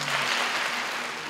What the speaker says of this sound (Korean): 영광 돌리면서 뜨거운 박수